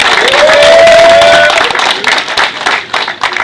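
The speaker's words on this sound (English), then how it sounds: "can we get a big round of applause for ShakaRa" Crowd at a live hip-hop show applauding and cheering loudly, a sustained dense wash of clapping with a whistle or whoop rising over the first seconds before it thins out.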